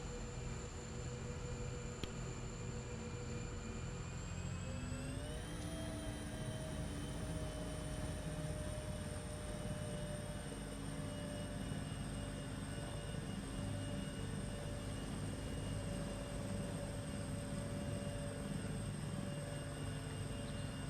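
Bell 412 helicopter engine and rotor in a flight simulator game, a loud, continuous turbine whine with a low rotor drone that rises in pitch early on as power comes up, then holds steady, with no voices.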